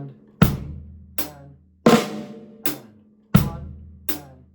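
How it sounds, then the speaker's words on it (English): Slow drum-kit eighth-note groove with flams on the snare, six well-spaced strikes, each with a sharp attack and a ringing decay, played alone and close. "So we're going to bring our right hand down into a flam."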